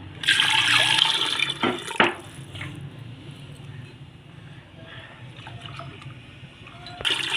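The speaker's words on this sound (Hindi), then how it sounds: "अब हम इसमें पानी डालेंगे।" Water poured from a tap or jug into a pot of lentils for halim being cooked at home, a loud splashing pour for about two seconds, then quieter running water and kitchen clatter, with another burst at the end.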